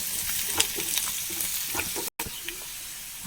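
Crushed chilli frying in a simmering curry gives a constant close sizzle with light crackles and a brief dropout partway through; no voices.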